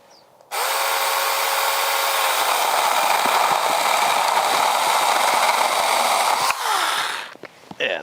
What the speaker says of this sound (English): turn the saw upside down, give a little relief cut. And now I can come up over the top.